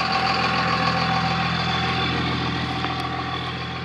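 A Cummins diesel truck idles close by, a steady low rumble with constant harmonic drone and faint mechanical rattle, easing slightly in level toward the end, with no voices.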